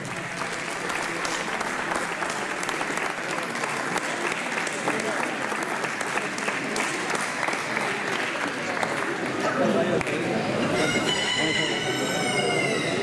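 Audience applause at a poultry show award ceremony in Albelda de Iregua, steady clapping throughout, with chickens and a rooster crowing and clucking from the exhibition pens, the crowing coming through clearly near the end.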